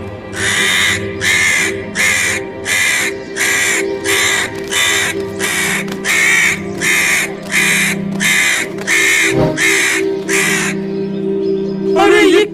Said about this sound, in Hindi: तभी कौवा चिल्ला चिल्ला के उस आदमी को परेशान करने लगता है।